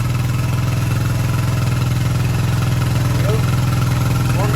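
A 1980 Kawasaki KZ250 motorcycle idles steadily close by during restoration, its engine running a bit rich with an even, low, throbbing pulse that continues unbroken.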